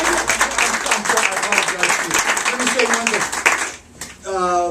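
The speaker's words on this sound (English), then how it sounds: "give him a round of applause" An audience applauds after a lecture on the environmental legacies of Thomas Jefferson, the clapping dense and fairly loud, mixed with speech-like sounds, then breaking off near the end before a brief tonal sound.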